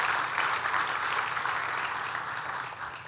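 A church congregation claps steadily during a sermon, with a moderately distant wash of applause that holds for about three seconds and fades a little toward the end.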